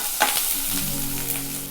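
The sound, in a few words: ginger and garlic frying in hot oil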